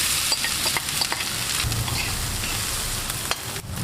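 Pork sizzles and crackles in hot cooking oil with red onion and ginger, while a utensil stirs and scrapes the pan in irregular bursts, close by and moderately loud.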